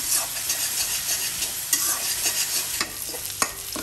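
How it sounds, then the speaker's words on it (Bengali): Small shrimp stirred and fried in a pan over high heat: a continuous close sizzle with repeated scraping strokes of a spatula and occasional sharper clinks, no talking. "এখন আমি চুলার আঁচ পুরো বাড়িয়ে দিব, বাড়িয়ে নাড়াচাড়া দিব"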